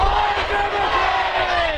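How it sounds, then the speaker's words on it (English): Dense crowd at an outdoor demonstration chanting Elijah McClain's name, a loud, steady roar of many voices with a rhythmic, chant-like rise and fall running without a break. "Now crowds are also chanting Elijah's name"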